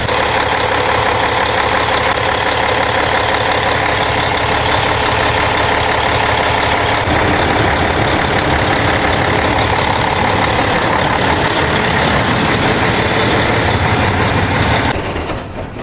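Cummins ISX truck diesel engine running steadily during a fault code 0559 test, a loud continuous drone with a shift in tone midway before it cuts off near the end.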